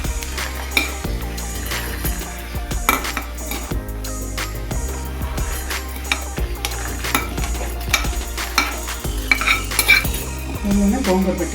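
Green chillies frying in a pan for gongura pachadi, with a steady sizzle under repeated stirring scrapes and light clinks of a utensil against the pan, close and continuous.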